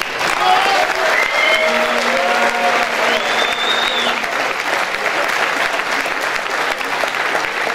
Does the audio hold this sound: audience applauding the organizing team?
yes